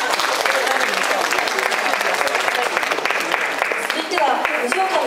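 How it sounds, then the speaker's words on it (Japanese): Audience applause following a stage performance that blends Japanese and Western styles, a dense steady roar of many hands clapping throughout, loud and close, with faint voices mixed in. "もう一度大きな拍手をお願いします。"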